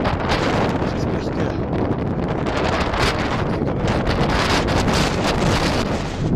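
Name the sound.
wind blowing at a mountain pass in Kyrgyzstan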